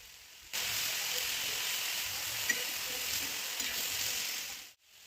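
Vegetables and moong dal sizzle steadily as they are sautéed in a pan, a close, even frying hiss that starts abruptly and fades out near the end.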